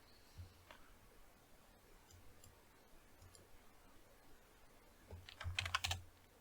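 Fingers typing on a computer keyboard at a desk, scattered soft key taps early on building into a faster, louder cluster of clicks near the end, close and without talk.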